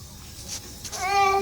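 A cat meows once near the end, a clear tonal cry rising over low room noise after a short stretch of quiet rustling.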